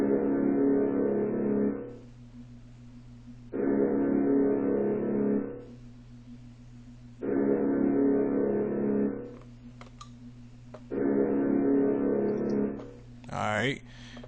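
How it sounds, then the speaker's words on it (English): Deep sustained brass synth notes in a trap beat sound in three long phrases of roughly two seconds each, with quieter gaps between them and a brief higher sweep near the end. "So y'all can hear this deep brass sound."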